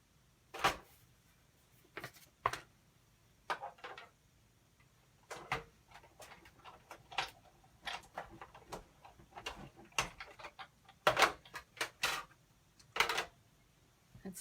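A die-cutting machine runs a stitched circle shape through paper, giving scattered close clicks, clunks and ratcheting bursts at an uneven pace against a quiet background.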